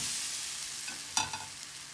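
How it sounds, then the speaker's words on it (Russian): Blini batter made with baking soda fries in a pan, giving a faint, steady sizzle, with a few brief clinks and scrapes of a utensil near the middle. "Все, и жарим блинчики."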